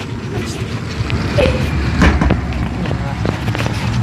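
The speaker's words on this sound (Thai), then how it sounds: "รถไฟนะ" A train rumbles past nearby, with low mechanical rolling and scattered clanks beneath a noisy background.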